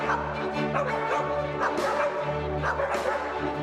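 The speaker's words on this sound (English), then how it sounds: "Wow, look at these dogs." Three trained dogs bark, yip and whimper alongside the Danish Chamber Orchestra performing the Hunting Symphony, with repeated loud barks over sustained orchestral music throughout.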